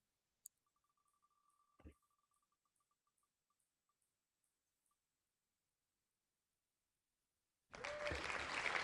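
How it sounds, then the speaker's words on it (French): Canned applause sound effect bursts in loudly near the end of a spinning prize wheel's ticking, dense and steady as it cuts in suddenly after a mostly quiet stretch. "T'as les applaudissements aussi?"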